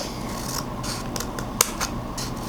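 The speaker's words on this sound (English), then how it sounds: "So I'm going to cut down as far as my scissors will go." Scissors snip through paper for a craft flower in a series of close, crisp cuts, with one sharper snip standing out against a soft background hiss.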